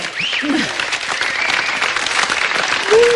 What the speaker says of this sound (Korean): 아니 박수 소리가 이렇게 길게 나온 건 처음인 것 같은데